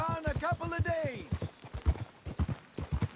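Horse hooves clip-clop in a steady walking rhythm, close and distinct, from a video game, heading into town, with a voice talking calmly over the first part of the steps.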